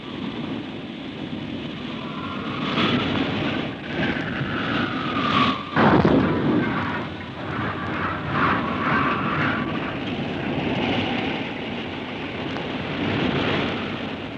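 Aircraft engine drone as a plane glides low over a raft at sea, a continuous broad roar that swells and peaks near the middle, with wind noise throughout and no voices.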